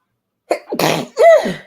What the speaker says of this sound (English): I'm allergic to going live because I got to sneeze every time.